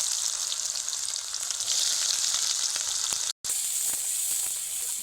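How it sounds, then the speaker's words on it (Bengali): Chopped onions frying in hot oil after browned garlic for a garlic curry; a continuous close bright sizzle and hiss, with one very brief gap near the end. "এইবার আমি এখানে দিয়ে দেবো কোচানো পেঁয়াজ"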